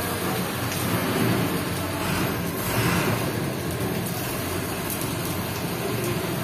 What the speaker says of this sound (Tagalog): Hintayin lang natin tumila ang ulan. Maulan ngayon eh.